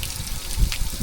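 Water sprays over the mud-caked chassis of a 1997 LN106 Toyota Hilux during a wash, giving a steady, close hiss of running water with no pauses.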